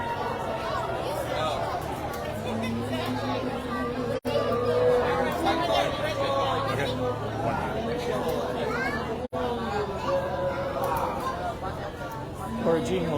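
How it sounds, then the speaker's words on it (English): Steady crowd chatter fills the Jungle Cruise standby line at Magic Kingdom, a dense babble of many nearby voices that carries on without pause, with a couple of brief dropouts. "All right, we get to the crowd in the standby line."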